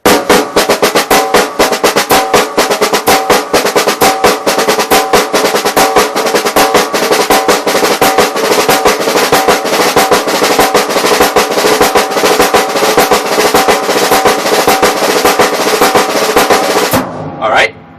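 Six-stroke roll rudiment played up to tempo on a drum, a dense, fast and steady stream of loud strokes running continuously for about seventeen seconds before stopping abruptly.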